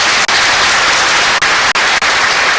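Loud, dense applause from a symposium audience in Mitsuke, Japan, fills the whole stretch, a steady wash of many hands clapping with a few brief gaps.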